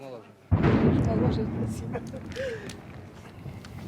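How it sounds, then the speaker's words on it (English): A sudden, heavy shelling explosion booms up close in wartime Severodonetsk, Ukraine, then a long rumbling roar fades slowly over several seconds. "Do you not get scared of those explosions?"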